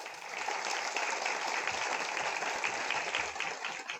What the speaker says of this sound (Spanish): Les pido un aplauso para los dos ponentes.